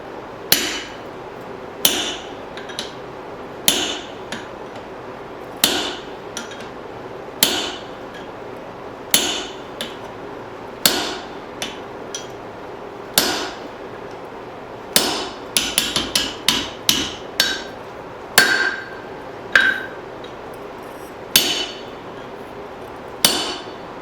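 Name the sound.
hammer forging a spring steel hatchet on an anvil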